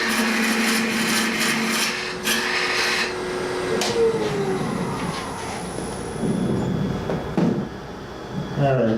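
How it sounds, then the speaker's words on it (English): A woodturning tool scrapes and cuts into wood spinning on a lathe, giving a rough, fluctuating whirring hiss with brief tonal squeals, heard close and fairly loud with a person speaking intermittently. "I'm going to be anchoring the tool, rubbing the bevel without cutting, and I'm going to raise the handle until it cuts."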